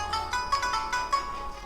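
A boss alert notification plays in the Yong Heroes 2023 game, a rapid run of bright electronic chime tones repeating like a ringtone, fairly soft and heard alone.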